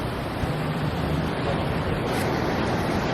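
Sea waves wash steadily along the Puerto Vallarta boardwalk in Mexico, a continuous broad roar of surf with wind, constant and fairly loud throughout.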